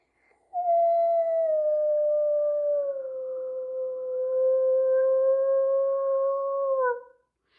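A person imitates a friendly wolf howl as one long, smooth, sustained tone lasting about six seconds. It slides slightly lower, then rises again before trailing off, loud and close against silence.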